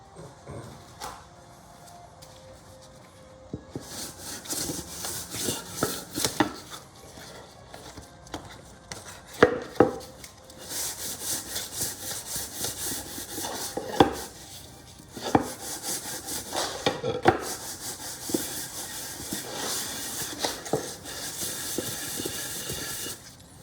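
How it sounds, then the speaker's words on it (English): A wooden deck block gets sanded in long, hissing stretches of steady abrasion, broken by brief pauses and a few knocks, close by and moderately loud. "And we're gonna sand this shit again."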